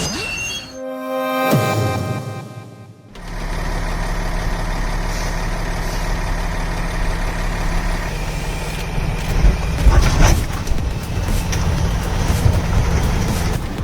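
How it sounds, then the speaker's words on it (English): Cat D6 bulldozer with a powerful diesel engine of hundreds of horsepower, working on a construction site: a loud, steady low rumble that holds throughout, rising slightly toward the end, with clanks and scraping over it and no talk. "a Cat D6 bulldozer with a powerful engine of hundreds of horsepower, roaring like thunder"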